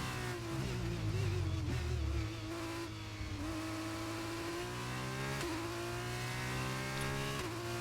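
A Formula 1 car engine in the F1 23 racing game screams at high revs, pitch climbing and dropping through gear changes, with a brief tire squeal and steady loud whine throughout, no talking.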